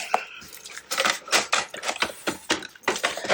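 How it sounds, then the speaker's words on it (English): Laminated paper being folded in half and creased with a bone folder for a handmade notebook, a close, fairly loud series of scraping, rubbing strokes in uneven rhythm, with no talking. "I'm going to fold that in half, as half as I can get it, and just bone fold it up"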